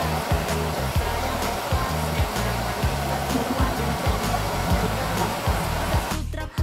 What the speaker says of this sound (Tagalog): Dalawa talaga ang gamit kong blower sa kanila.